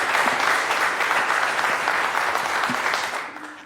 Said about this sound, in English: Technically, we shouldn't be clapping in chambers, although I want to clap with all of you.